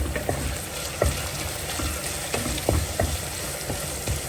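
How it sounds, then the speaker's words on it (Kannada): Cut Byadgi chillies fry in a pan with a close, crackling sizzle, punctuated by irregular knocks and scrapes of stirring and no speech. "ನಾನಿಲ್ಲಿ ನಾಲ್ಕು ಬ್ಯಾಡಿಗೆ ಮೆಣಸನ್ನು ಕಟ್ ಮಾಡಿ ಹಾಕ್ಕೊಳ್ತಾ ಇದ್ದೀನಿ"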